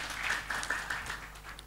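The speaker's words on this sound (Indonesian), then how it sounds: "Bisa memberi tepuk tangan Bapak Ibu?" Audience applause at a junior high school graduation ceremony, moderate and fairly brief, with scattered claps in a room.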